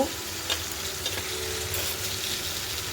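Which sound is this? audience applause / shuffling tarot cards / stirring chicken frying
stirring chicken frying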